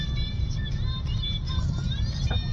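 A car drives along a mountain road in Uttarakhand, its engine a steady low rumble under continuous road noise, with faint music playing inside the vehicle.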